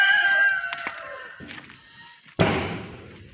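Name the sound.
chickens clucking in a chicken coop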